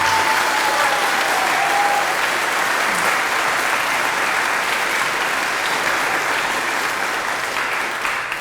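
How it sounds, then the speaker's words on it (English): An audience in Providence claps steadily throughout, a dense, even round of applause at an evening event after a musical performance. "I just want to give another round of applause for Gigi and that beautiful music."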